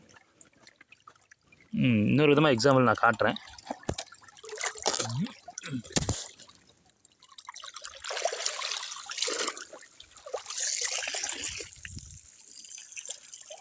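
Water gushes and splashes from a tipped bucket while clothes are washed by hand, coming in several bursts of pouring and trickling, with a person talking in between.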